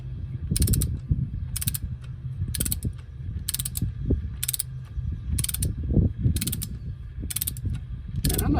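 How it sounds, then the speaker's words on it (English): Torque wrench tightening a bolt on a Kubota L2501 tractor's hydraulic system, set to 39 newton meters: nine sharp, evenly spaced ratchet clicks about a second apart, close and clear over a steady low rumble. "So I've got my torque wrench"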